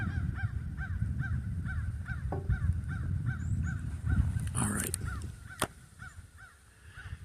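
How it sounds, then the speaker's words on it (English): Crows caw repeatedly beside a lake, a steady run of rhythmic harsh calls over outdoor background noise, with a few sharp knocks and a brief spoken phrase partway through. "Listening to all the birds here,"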